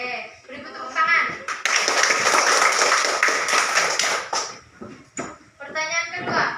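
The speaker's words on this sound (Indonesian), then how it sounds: "Oke, beri tepuk tangan." A classroom of children bursts into lively clapping during a religious education lesson. The applause lasts a few seconds and is loud and close, with a teacher and children talking before and after.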